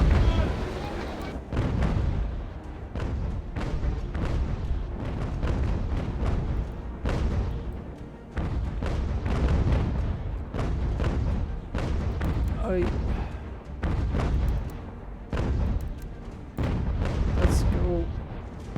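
Ship cannons firing round solid shot in a large sea battle in the UGAR video game: repeated heavy booming volleys at irregular intervals, with a rumbling low end and sharp cracks, under a busy battle din.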